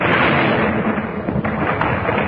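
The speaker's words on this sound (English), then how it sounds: "Bell fired at the precise moment when the bomb exploded" A loud, rumbling bomb explosion that roars and crackles across the whole moment, dense and booming with no voices, in an old-time radio drama.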